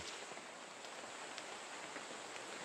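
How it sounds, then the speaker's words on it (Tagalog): Steady rain falls as a soft, even hiss with occasional faint drops, continuous and without voices. "kasi umuulan"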